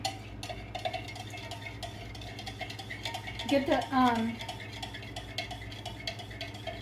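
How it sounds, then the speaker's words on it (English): A spoon stirs a drink to dissolve the sugar, giving rapid light clinks against a glass and a brief louder scrape partway through, with faint talk and a low steady hum in the background. "take this, I'm going to stir it up"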